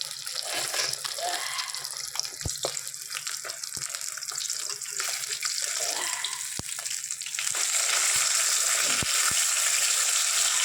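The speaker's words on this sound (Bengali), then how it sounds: "বড় মাছটা ভাজা বসিয়ে দিয়েছি" A big fish fries in a pan with a steady, close sizzle and scattered sharp pops, and the frying grows louder and brighter near the end.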